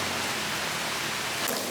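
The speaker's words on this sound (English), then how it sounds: "Oh no, it's raining." Steady rain pours down outside a villa on Ko Samui, Thailand, a dense even hiss with no breaks across the short stretch.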